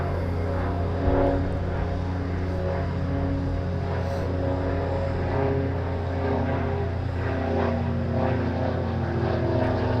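An Eastern Airways airliner at Southend Airport holds a steady engine drone with a low hum and a propeller-like buzz, continuous and moderately distant.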